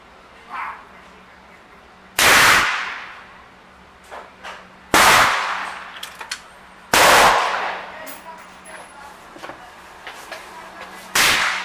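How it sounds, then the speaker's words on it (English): Four loud, sharp rifle shots from a .45-70 firing 300-grain bullets at targets outdoors, spaced a few seconds apart, each with a sustained echoing tail. "the first shot on the left-hand target, I shot a little high, expecting it to shoot a little low, hit right on point of aim"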